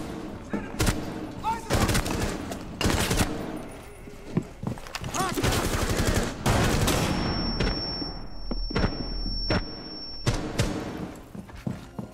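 Semi-automatic gunfire in a Rainbow Six Siege T-hunt, a series of sharp, separate single shots fired at an uneven pace, loud and close, with game sounds and some talk mixed in.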